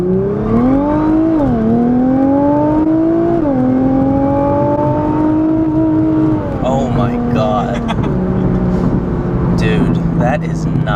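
A 2017 Nissan GT-R accelerates hard through several gears, its engine note climbing and dropping at each shift, loud and close from inside the cabin, easing off toward the end with a few faint clicks.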